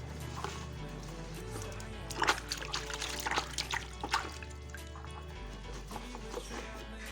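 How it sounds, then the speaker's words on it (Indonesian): Fungicide and vitamin solution is poured from a glass over orchid plants, making a soft, steady trickle and splash of liquid with scattered drips. It is faint and close, under a low background hum. "harus siram pakai gelas ya, untuk mengenai daun-daunnya"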